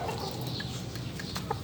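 Gamefowl fighting cocks of the Gilmore Hatch line clucking softly at a farm, a few faint, short clucks over low background noise with no voices.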